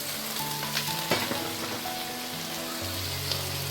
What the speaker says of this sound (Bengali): পেঁয়াজগুলো একটু ভাজা ভাজা হচ্ছে, এর উপর আমি ঝিঙেগুলো দিয়ে দিচ্ছি